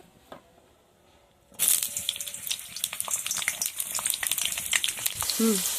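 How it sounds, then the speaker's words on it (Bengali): Bitter gourd sizzling and frying in hot oil in a wok, starting abruptly after a quiet moment and continuing as a dense crackle with scattered sharp pops and a clink of utensils, close and steady to the end. "কড়ায় তেল দিয়ে দিচ্ছি। আগে প্রথমে কি উচ্ছেটা ভেজে নেব।"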